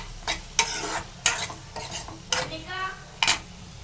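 Ridge gourd pieces frying on a low flame for a traditional chutney, with repeated stirring scrapes and clinks of a utensil against the pan over a soft steady sizzle, close and moderately loud, no voices.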